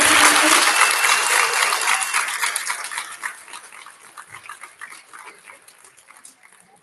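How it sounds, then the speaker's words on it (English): Audience applause at an elementary school student recognition ceremony, a dense burst of clapping that starts loud and gradually thins out into scattered, fading claps over several seconds. "Can we have one more round of applause for everyone who is speaking today?"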